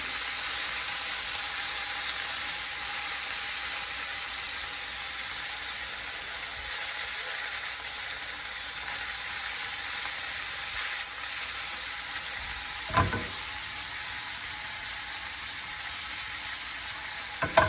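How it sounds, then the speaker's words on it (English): Bacon grease bubbles and crackles in a pan before steaks go in, a soft, steady sizzle with a brief clatter partway through and no talking. "Getting like some nice bacon grease going on there for our steak."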